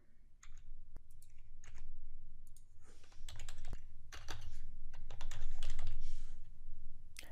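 Rapid, uneven clicking of computer keyboard keys as a license and control number are entered into Qlik software, close and steady over several seconds with short pauses.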